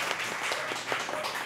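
Scattered hand clapping and applause from a small group at Bubur Tinghau, a porridge eatery, steady and fairly close for a brief moment with no voices over it.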